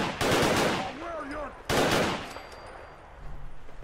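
Gunfire in the video game Fallout 4: two sharp, loud bursts of shots about a second and a half apart, with a short voice heard between them.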